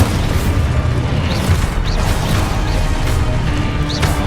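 An explosive spell blast in the Hogwarts Legacy video game: a loud, dense crashing boom that stays sustained with scattered sharp pops and whooshing streaks across a few seconds, with no talk.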